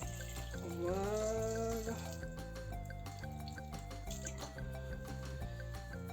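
Water is poured into a cooking pot, a rising liquid fill tone over the first couple of seconds followed by dripping and sloshing, with a brief spoken word.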